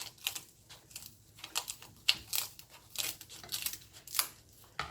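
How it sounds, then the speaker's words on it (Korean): Scissors snipping through the head of a dried pollock in a home kitchen, a series of sharp crunchy cuts with brittle crackling, close and moderately loud, with no talking. "이거를 머리를 가위로 자르겠습니다."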